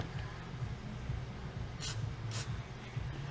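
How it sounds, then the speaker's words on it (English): Two short hissing bursts from an aerosol can of anti-seize sprayed onto bolts during a differential swap on a Camaro, close by, over a steady low background hum. "Spray some anti-seize on it."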